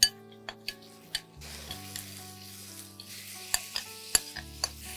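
Mutton curry sizzles in a pan while being stirred and sautéed, with scattered sharp taps and scrapes of a spoon against the metal over a low steady hiss and an underlying hum.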